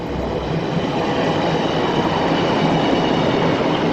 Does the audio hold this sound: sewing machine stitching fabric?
no